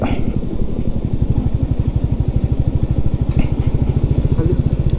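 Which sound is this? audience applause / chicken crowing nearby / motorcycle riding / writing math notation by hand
motorcycle riding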